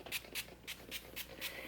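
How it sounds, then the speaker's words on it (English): Curl activator moisturizer sprayed onto type 4 natural hair in a series of short, close spritzes, about six quick bursts in an even rhythm. "So I'm just going to spray this on my hair."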